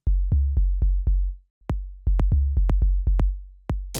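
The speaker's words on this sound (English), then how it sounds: "the bass sounds like this" A Romanian minimal house bass line of short, punchy low notes with clicky attacks in a syncopated groove, a brief gap in the middle, heard on its own.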